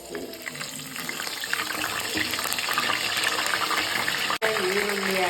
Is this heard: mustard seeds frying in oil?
yes